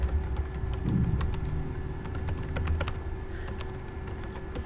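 Close, brisk typing on a computer keyboard, rapid irregular key clicks over a low steady background hum, with no speech.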